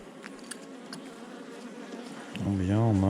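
Bees buzzing around their hive colonies, a faint drone that one insect joins at about two and a half seconds, its buzz close and rising and falling in pitch, with no talk.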